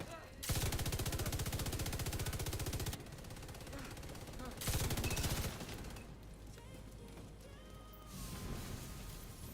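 An MG5 machine gun in The Division 2 hammers out long sustained bursts of rapid automatic fire, loud and close, with a brief gap between bursts and fainter shots and game sounds afterward.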